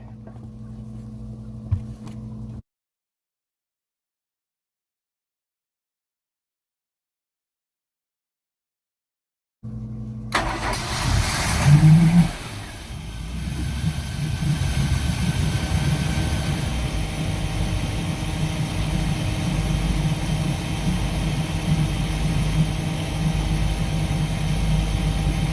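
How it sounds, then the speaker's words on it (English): A boat engine, fitted with a flame arrestor and carburetor, is started after a gap of silence and settles into a steady, fairly loud idle with a rough low rumble. "You start up the boat."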